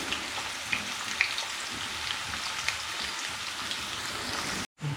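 Sliced onions for paneer biryani sizzle and crackle steadily in hot oil, close and continuous with a few louder pops, then a brief cut before the sizzle resumes.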